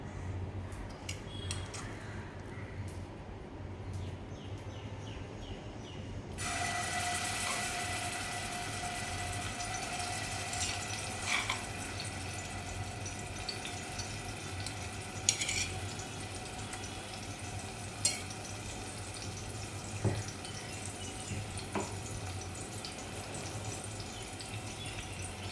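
Crushed chilli kharda paste, pounded in a stone mortar, hits hot oil and settles into a steady, close sizzle that runs on evenly with a few faint clinks of utensils.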